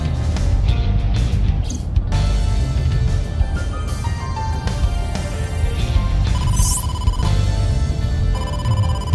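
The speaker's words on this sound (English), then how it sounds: "incoming call from the boss" A phone rings for an incoming call in AI: The Somnium Files, repeated electronic ringing tones pulsing over a loud, busy background of engine-like rumble, with no talk.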